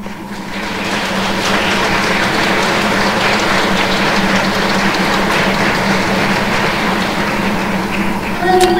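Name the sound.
audience applause for the judges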